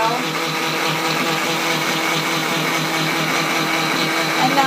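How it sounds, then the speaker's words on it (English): A blender runs steadily on almonds and water for almond milk, a loud continuous whirring drone with no change in pitch and no breaks. "You want to let this blend."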